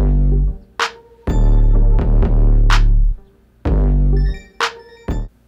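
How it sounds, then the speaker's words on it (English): A tiny Nexus bell adds a couple of brief, bright high chimes to an MPC Live beat. The chimes sit faintly over a booming deep 808 bass and sharp clap hits in a loud, close mix, with no talking. "Then I added this tiny little bell from Nexus."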